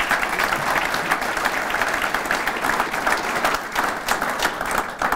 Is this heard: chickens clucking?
no